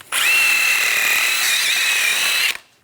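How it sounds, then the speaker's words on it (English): A wire brush scrubs hard against a car's metal wheel hub in one continuous, loud, high-pitched grinding stroke lasting a couple of seconds, then stops. "Using a wire brush, clean up the surface on the hub."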